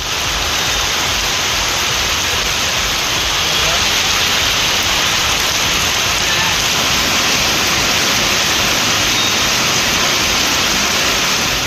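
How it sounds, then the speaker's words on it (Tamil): Heavy rain with wind pours down as a steady, dense broadband hiss, loud and unbroken throughout, with no clear voices standing out. "காற்றுடன் கூடிய கனமழை பெய்தது"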